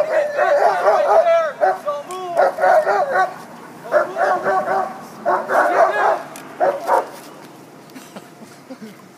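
Police K9 dog barking repeatedly in bursts during a handler demonstration, the barks loud and close with short pauses between volleys, fading toward the end.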